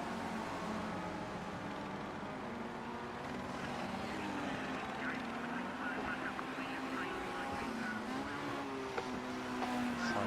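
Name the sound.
race car engines in the video game Project Cars 2 at Brands Hatch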